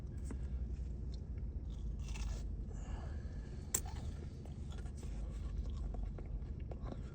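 Someone bites and chews a crunchy Burger King cinnamon apple pie, with soft crisp crunches and a sharp click over a steady low rumble of background noise, no talking.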